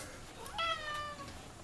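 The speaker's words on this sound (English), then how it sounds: "Let me help my cat real quick." Pet cat meowing indoors, a single clear, fairly close meow with a rising then falling pitch, standing alone over a quiet room background.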